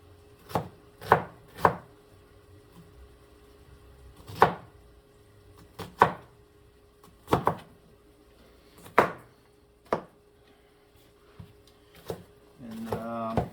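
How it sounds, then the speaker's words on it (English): Sharp knife strokes slice an onion thin on a board, about a dozen crisp chops spaced irregularly, close and distinct, with a brief scraping rustle at the end. "Again, cutting this onion thin."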